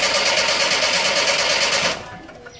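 A car engine cranks on the starter for about two seconds, a fast even whirring chug, close and steady, before it cuts off and quiet follows.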